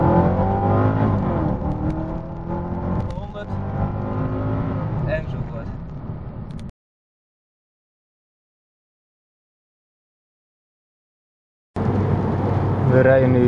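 A 2003 Mercedes W211 E55 AMG accelerates hard, its engine note climbing in rising sweeps for several seconds before cutting to silence, then returning loud near the end.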